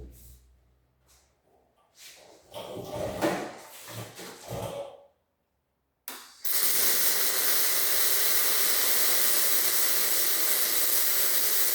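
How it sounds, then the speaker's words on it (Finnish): A Värmen MIG flex welder starts after several seconds of quiet clattering and handling, then lays down a weld with a loud, steady, close-up crackling hiss that continues to the end. "kokeillaan nyt hitsata sillä, että hitsaako se nyt niinku kuuluu"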